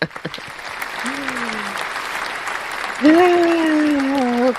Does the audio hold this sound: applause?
yes